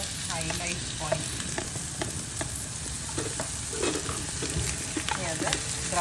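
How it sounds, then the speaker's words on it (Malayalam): Finely chopped onions with curry leaves sizzle steadily in a pan for Onam sadya ulli theeyal, with a spoon scraping and stirring at intervals over the continuous frying hiss. "ഇനി ഇതിലേക്ക് നമുക്ക് ഉള്ളി ഇടാം"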